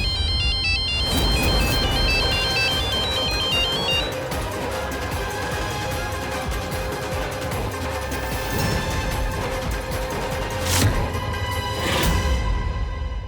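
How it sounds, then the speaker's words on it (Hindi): A mobile phone plays a short electronic ringtone melody once for a few seconds, then stops abruptly, while background music from an indoor family drama scene carries on. "एक घंटी बज के फोन स्विच ऑफ हो गया"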